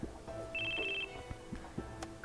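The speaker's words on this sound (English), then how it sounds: "Phone call." A phone ringing in the video game Crisis Core, a short electronic trill heard once at moderate level over quiet game sounds.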